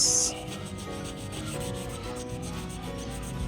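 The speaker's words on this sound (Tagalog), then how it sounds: "So, gagamit tayo ng sander para matanggal yan." A sander smooths a wooden display cabinet under repair, producing a steady, close rubbing and scraping grind that holds an even level throughout with no talking.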